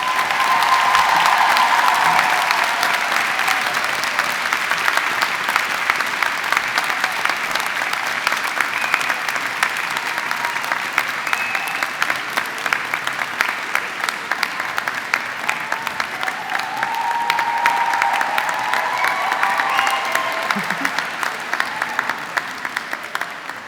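Graduation ceremony audience at London College of Fashion breaking into sustained applause and cheering, a dense wash of clapping from a large crowd that swells and dips for over twenty seconds.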